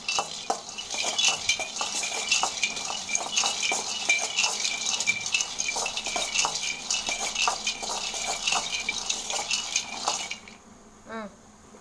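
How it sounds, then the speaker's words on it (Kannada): A spoon stirs peanuts and gram flour in a bowl, clinking and scraping steadily in quick repeated strokes for about ten seconds before it stops. "1 ಬೌಲ್ ಚೆನ್ನಾಗಿ ಬೆನೆಸ್ಬೇಕಿದು ಶೇಂಗಾ ಎಲ್ಲ"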